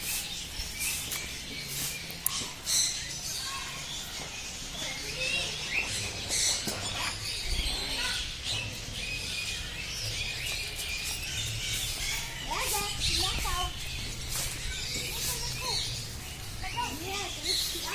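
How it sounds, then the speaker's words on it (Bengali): Garden aviary with many birds, parrots and macaws among them, chirping and squawking in a busy overlapping chorus at mid distance, under a steady outdoor murmur of people and occasional voices. "পাখির কিচিরমিচির শব্দ"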